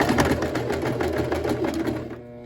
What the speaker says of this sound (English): then I'm going to sew straight down up until this point right here